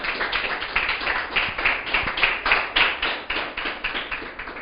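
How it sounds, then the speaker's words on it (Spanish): A church congregation claps during a Spanish-language sermon, a loud rhythmic burst of roughly regular hand claps, about three per second, close and uniform with no talk over it. "Aplauda al Señor."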